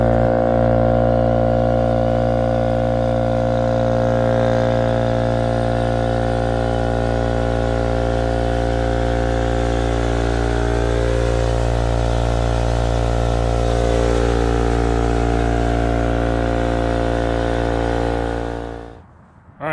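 A Husky air compressor with its regulator cranked all the way up runs to fill its tank, a loud, steady motor drone holding for nearly twenty seconds before winding down.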